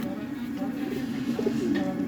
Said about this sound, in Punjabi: ਇਹ ਜੀ ਟੈਡੀ ਕਬੂਤਰ ਹੈਗਾ